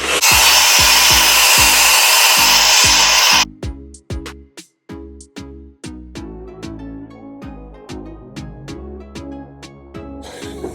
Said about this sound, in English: I'm even gonna go ahead and take the diffuser off and just go crazy with it.